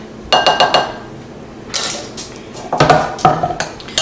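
Spoon clinking and scraping against a dish while pie filling with cinnamon is stirred, a few close metallic taps in quick runs with short pauses between them.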